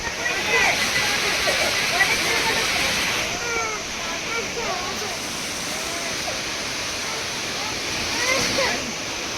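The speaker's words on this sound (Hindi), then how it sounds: "अभी ये जो वाटरफॉल दिखा रहे हैं हम" A steady, roaring rush of Tirathgarh waterfall in Jagdalpur, Bastar, fills the whole clip, loud and close, with bright splashing texture throughout.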